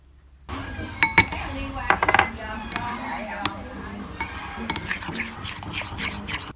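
Whisk or spoon clinking against a bowl while stirring a flour and egg yolk mixture for Taiwanese pineapple cake, with scattered close taps and scraping strokes, faint background noise throughout.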